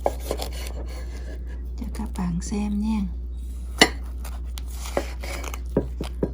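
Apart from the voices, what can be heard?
cutting a baked honeycomb cake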